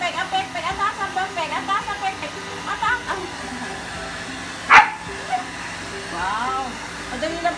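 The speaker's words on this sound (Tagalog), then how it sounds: "Madali lang po siya blower kasi malipis po yung kanyang balahibo." A blower drying a thin-coated dog's fur after a shower, a constant airy whoosh under a woman's repeated speech, with a short squeaky whimper or yip midway.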